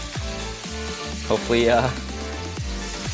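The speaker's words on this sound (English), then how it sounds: "Start off with the brisket. Oh yeah, hear that sizzle." Beef brisket sizzling loudly in oil on a hot pan while Korean BBQ is cooked at home, a steady crackling hiss that flares around the middle, with a person talking briefly over it.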